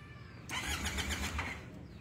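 A Maxsym TL500 maxi scooter engine starts: a quiet idle hum bursts into a louder, rough running engine about halfway through and then holds steady.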